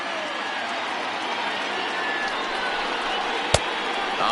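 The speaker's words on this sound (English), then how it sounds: "listen to this crowd now. They are really into this" A baseball stadium crowd roars steadily during a late rally with bases loaded in an Orioles at White Sox game, a dense, sustained wash of cheering with one sharp knock partway through.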